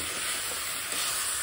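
Sugar and honey caramelize in a hot pan while a ladle stirs them, giving a steady, dense sizzle and hiss that stays even and close throughout, with no talking.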